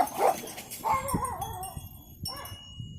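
Several dogs bark at neighbors driving past, giving a quick run of close, sharp barks and yips at the start, then fainter barking later over light background noise outdoors.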